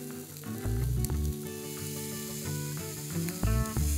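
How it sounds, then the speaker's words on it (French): A scallop and bacon skewer sizzles on a hot plancha, with a steady crackling fry broken by repeated clinks and scrapes of utensils as it is turned, close and fairly quiet, without talk. "On cuit la brochette sur toutes les faces pour donner du croustillant au lard."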